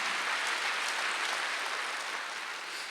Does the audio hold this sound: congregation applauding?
yes